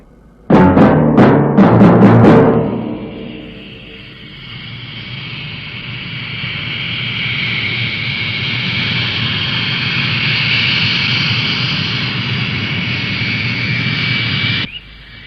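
A loud jet aircraft engine in a 1967 Captain Scarlet puppet series spools up for takeoff, opening with a burst of rapid musical stings and then settling into a steady roar that cuts off abruptly near the end.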